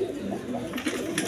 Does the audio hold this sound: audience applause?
no